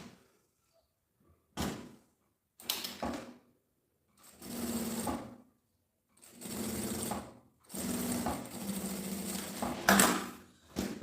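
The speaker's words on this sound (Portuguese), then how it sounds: "passo uma costura com um pé de máquina." A sewing machine stitches bias binding onto plastic in several separate bursts of a few seconds each with pauses between, a close whirring hum that grows a little longer and steadier toward the end.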